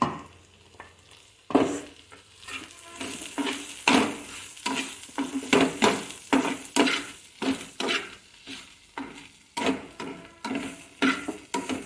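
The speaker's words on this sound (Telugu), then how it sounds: "వేసేసి ఒకసారి మంచిగా అంతా కలిసేలాగా కలుపుకుందాం." Okra frying with garlic as chili powder is stirred in, a sizzle under repeated spatula scrapes and knocks against the pan in an uneven rhythm, close and fairly loud.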